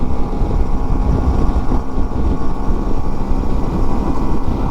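Steady, loud engine drone and wind rumble from a 125 Varadero motorcycle cruising on a road up the hills, continuous with no breaks and no talk.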